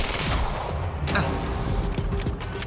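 Turret gunfire from the video game Quantum Break, a steady loud barrage of shots and booms over dense game noise throughout, with no voices on top.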